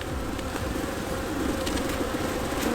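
Honeybees swarm and buzz close around a beekeeper working an open hive while a brood box is being added, a dense, steady drone filling the whole stretch with no talking.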